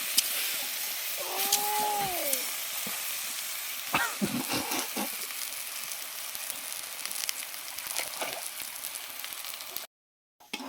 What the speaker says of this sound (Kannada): ಈಗ ಬಾಳೆಹಣ್ಣ ತುಪ್ಪದಲ್ಲಿ ರೋಸ್ಟ್ ಮಾಡ್ಕೊಂಡಿದ್ದೀವಿ